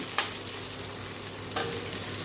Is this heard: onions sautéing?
yes